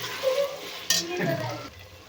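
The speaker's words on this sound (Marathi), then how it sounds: "त्याच्यासाठी आता याला छानपैकी तेलामध्ये परतून घ्यायचं आहे. आता घातले आहेत मी याच्यामध्ये टोमॅटो." Potatoes and tomatoes being stirred and fried in oil in a pan, a soft sizzle with a brief scrape of the spoon partway through, close and fairly quiet.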